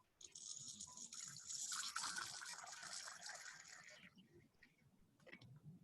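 Water is poured from a bottle into a small cup until it is about half full, for a classroom capillarity experiment. The steady close trickle runs for about four seconds, then stops, leaving a few faint drips.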